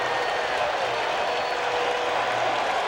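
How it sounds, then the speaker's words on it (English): A packed stadium crowd roars steadily through a 1986 World Series Game 6 between the New York Mets, a dense, continuous wash of cheering and applause with faint commentary underneath. "This crowd has reason to cheer."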